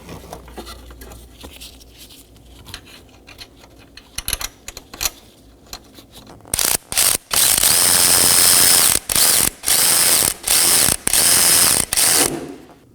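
A ratchet tightens 10mm bolts on a horn bracket at a bumper reinforcement on a 2018-2024 Chevrolet Equinox 1.5L, starting with soft scattered clicks and then loud rapid clicking runs in repeated close bursts.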